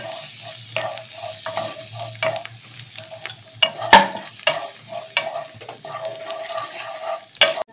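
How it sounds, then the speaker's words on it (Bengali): Garlic fries in butter in a pan for white sauce pasta, giving a soft continuous sizzle. A utensil stirs and scrapes against the pan in irregular clicks and taps, up close with no talking. "এক মিনিট হবে রসুনটা ভাজা।"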